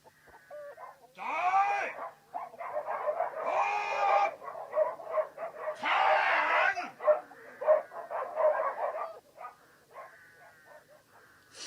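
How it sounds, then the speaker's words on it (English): Several dogs bark repeatedly in overlapping bursts, loud and close, with some higher yelping calls mixed in and brief gaps between volleys. "He must have heard the barking."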